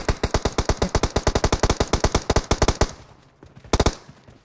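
Rapid automatic gunfire in a battle royale video game rattles out as a long even burst of loud close shots, then a pause and a short second burst.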